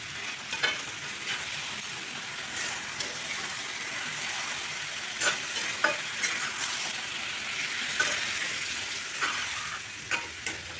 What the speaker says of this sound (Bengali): এখানে লো টু মিডিয়াম ফ্লেমে আস্তে আস্তে কষাতে হবে, যতক্ষণ না আদা রসুনের কাঁচা গন্ধটা যায় ততক্ষণ ভালো করে কষিয়ে নেব।